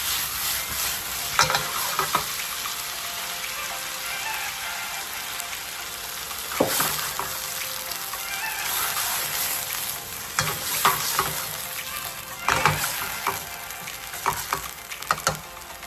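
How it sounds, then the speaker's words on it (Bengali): Fenugreek leaves, aubergine and potato bhaji cooking over low heat, a gentle sizzle under repeated stirring, with bursts of spatula scraping and clatter at intervals, close and moderately loud, no voices. "আপনি না ঢেকেও রান্না করতে পারুন ধিমি আঁচে। ভালো করে মিশিয়ে নিন।"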